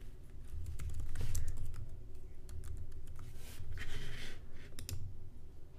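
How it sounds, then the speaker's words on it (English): Rapid typing on a computer keyboard, close and clear, with irregular bursts of key clicks running throughout at a steady pace. "And then we just type that into the URL bar here."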